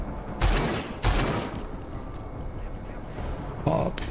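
Weapon fire in the shooter game Rage 2: a few sharp bursts of shots spaced apart, the loudest near the start and one more near the end, over a busy game soundtrack.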